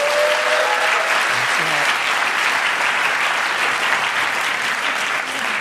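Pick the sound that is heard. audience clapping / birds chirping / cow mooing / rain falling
audience clapping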